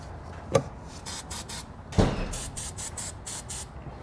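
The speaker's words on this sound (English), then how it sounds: "We're gonna be spraying down our two rubber isolators." Short hissing bursts of aerosol penetrating oil sprayed onto rubber exhaust isolators of a 2018 Chrysler Pacifica, several quick pulses, with a couple of faint knocks underneath.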